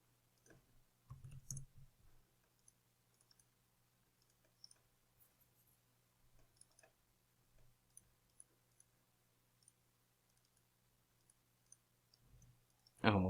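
Faint, sparse keyboard typing while building a mobile app: scattered soft clicks and short taps over a quiet low hum, ending with a louder knock.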